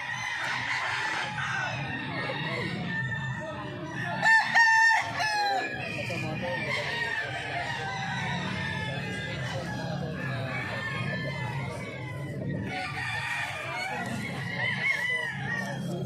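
White Kelso roosters crow repeatedly and cluck among a group of fowl offered for sale, loud and close with overlapping calls, while people talk faintly in the background.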